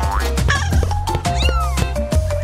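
Kittens let out several high, sliding meows in quick succession over a busy, tonal background, fairly loud and close.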